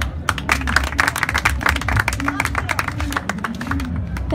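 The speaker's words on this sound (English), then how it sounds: "Clap for her." Scattered clapping from a club audience greeting a speaker, sharp uneven claps over a low murmur of voices and shuffling, continuing at a steady moderate level throughout.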